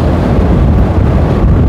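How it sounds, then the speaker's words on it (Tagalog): Loud, steady rush of strong wind buffeting the microphone, a constant roaring gust with no pauses. "napakalakas ng hangin."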